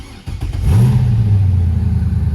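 A Lamborghini Murcielago with a newly fitted exhaust revs up close: the engine note rises quickly, then settles into a steady, deep, loud drone with no voices.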